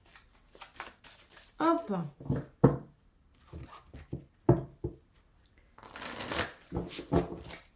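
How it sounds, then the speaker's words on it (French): A deck of tarot cards being shuffled up close produces bursts of papery riffling and slapping in uneven clusters, while a voice speaks briefly. "Je finis de mélanger, de touiller, tout ça."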